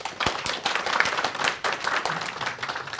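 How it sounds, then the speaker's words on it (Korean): Audience applause at a Korean energy forum welcoming a professor introduced as a panel discussant, a dense steady wash of clapping from a crowd lasting throughout without speech. "큰 박수로 환영해 주시기 바랍니다."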